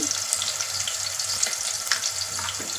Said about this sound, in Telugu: ఇవి కూడా తాలింపులో కొంచెం ఆయిల్లో మంచిగా గోలాలి